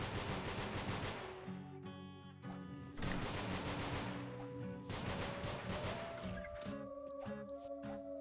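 Shotgun fire in the video game Nongünz goes off in a rapid, loud barrage of blasts layered over a thumping game soundtrack, with no voice heard.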